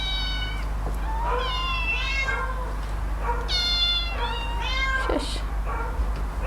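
Several kittens meow repeatedly from shelter cages, their high, rising cries coming in quick bursts over a steady low hum, fairly close and loud.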